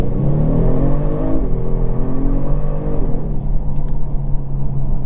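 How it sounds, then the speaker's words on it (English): A 2022 Genesis G70 3.3T Prestige AWD floored from a standstill, its engine rising in a steady, loud, close droning pull with harmonics sweeping upward, then easing to a sustained rumble. "we're just going to try flooring it from a stop"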